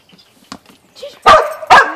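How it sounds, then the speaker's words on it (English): A dog gives two loud, sharp barks close by, after a few faint whimpers and small noises. "No, no barking."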